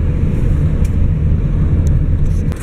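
Busy road traffic heard from inside a moving car, a steady, dense low rumble of engines and tyres on the road with no break and no voices.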